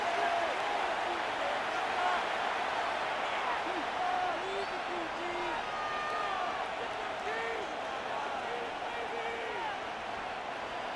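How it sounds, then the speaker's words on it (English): A steady roar of a video game stadium crowd cheering, from NFL Madden 26, fills the whole stretch without letting up, while a commentator talks over the noise. "this crowd urging on their defense. They're up and making noise."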